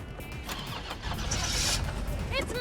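A car engine in the Resident Evil 3 Remake cranks and struggles to start, giving a churning, sputtering mechanical whir that grows fuller near the end, with a voice speaking over it.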